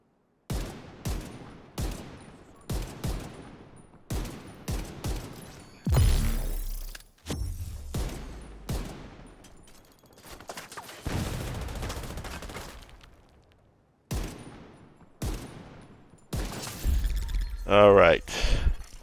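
Rifle fire in the video game The Division 2 comes as repeated bursts of rapid shots separated by short pauses, with one longer sustained volley in the middle, all loud and close.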